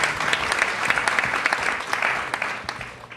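An audience claps steadily at a talk event, many hands producing a continuous patter of applause that starts full and slowly thins toward the end.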